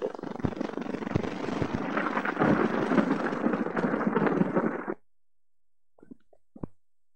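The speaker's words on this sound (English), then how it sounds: "the intensity of the lightning, the extension and the rumbling of the thunder" Thunder in a lightning storm from an old film soundtrack: a continuous, crackly rumble that holds for several seconds, then cuts off abruptly, leaving a couple of faint bumps.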